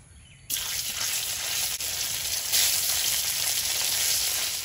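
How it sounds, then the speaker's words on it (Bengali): Paneer pieces hit hot oil in a kadai and start sizzling loudly up close after a brief quiet moment, with a steady frying hiss that continues to the end. "পনির গুলো হালকা করে ভেজে নেব।"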